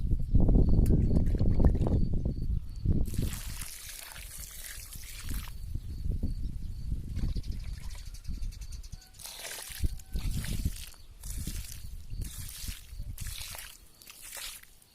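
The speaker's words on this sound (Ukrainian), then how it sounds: "І тепер буду проливати водою." Water poured from a watering can or hose into planting holes holding dahlia tubers in garden soil, giving a steady trickle and splash with bursts of sloshing, fairly close and alone without talk.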